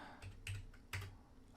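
Computer keyboard keys tapped as a number is typed, a few quick light clicks in two small bursts, close and quiet with no talking.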